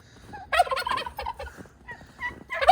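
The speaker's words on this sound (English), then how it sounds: "let's come over here, see how the chickens and turkeys are doing." Turkeys gobble in loud, rattling bursts, a couple of calls close together, then another gobble after a short pause.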